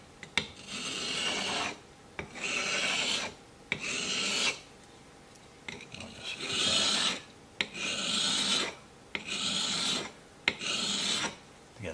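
A chisel sharpened on a sharpening stone with a jig, heard as loud, close rasping strokes in bursts of several seconds separated by short pauses and brief clicks, with no talking.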